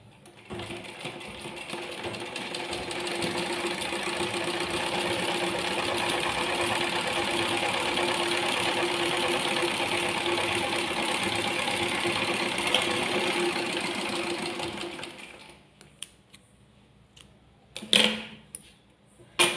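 A sewing machine stitches fabric in one long, steady, close run for about fifteen seconds, then stops, followed by a few scattered handling clicks and knocks.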